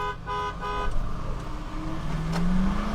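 At a drag race between a Land Cruiser 200, Tank 500 and Land Cruiser 300, engines idle and rev while a couple of short starting horn toots sound early, followed by a rising engine whine as a vehicle pulls away.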